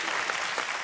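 Steady applause from a TV comedy show studio audience, a dense crackle of many hands clapping without pause.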